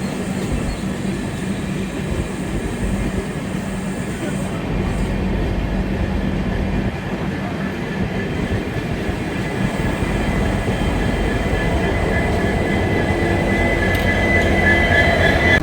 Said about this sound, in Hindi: तो मेरे ख्याल से एक्चुअली ये इंटरसिटी है, इतना ज़्यादा स्पीड में भी नहीं जाएगी, धीरे धीरे ही चल रही है।